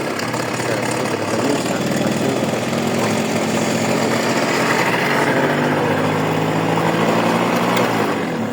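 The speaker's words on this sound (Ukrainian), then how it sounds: "Ось нове колесо я поставив на скутер. Тому таке ось так він у мене заводиться, як можете бачити." A scooter with a newly fitted wheel, its small engine starting and then running in a village setting, a steady buzzing putter that holds at a close, loud level throughout.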